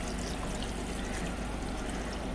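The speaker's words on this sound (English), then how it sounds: "I'm just going to add some more water" Close, steady pour of water into a pressure cooker holding rabbit meat on a flat trivet, a continuous splashing trickle with no breaks and no voices.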